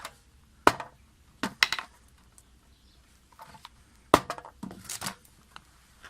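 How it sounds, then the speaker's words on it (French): Wooden mallet knocking on wooden boards during a small DIY job, a few sharp isolated thuds spaced irregularly with quieter taps and rustling between. "Là c'est un marteau. Ça abîme pas les planches en fait. C'est un maillet."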